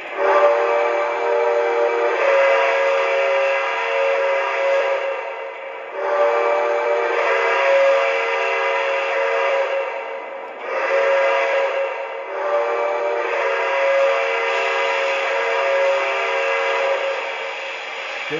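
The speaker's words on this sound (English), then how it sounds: "Here's the whistle." The steam whistle of a Lionel Vision Line Niagara model locomotive blows in several long, steady chime blasts, separated by short gaps. It sounds close and clear, with no talk.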